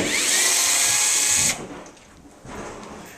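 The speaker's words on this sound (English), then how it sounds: "Now I'm taking out the screws that hold these base cabinets together" A power drill backs screws out of kitchen base cabinets during demolition. There is a loud, close, high whine for about a second and a half, then it stops and a few quieter handling sounds follow.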